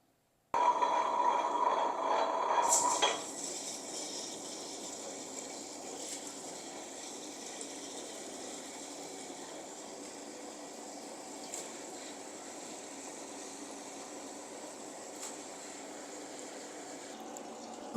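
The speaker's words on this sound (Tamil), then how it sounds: "இப்போ நான் இதை கிரைண்டரில் நான் அரைக்க போகிறேன்" A wet grinder churns dosa and idli batter with a steady whirring drone. It starts with a louder burst for the first few seconds, then settles into an even, continuous grind.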